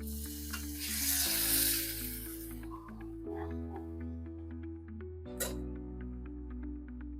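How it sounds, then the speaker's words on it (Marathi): Hot tempering with turmeric and red chilli is poured into cooked ambadi greens, setting off a close, loud sizzle that swells in the first seconds and then settles into steady crackling beneath a low background hum. "आता ही फोडणी आपण ह्याच्यात घालून घेणार आहोत."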